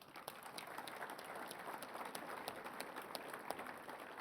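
Convention audience at the 2020 SARM Annual Convention applauding Saskatchewan Premier Scott Moe, a steady, fairly faint wash of many hands clapping with scattered sharper claps throughout.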